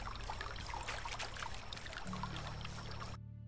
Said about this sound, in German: Und hier sind wir wieder am Fluss.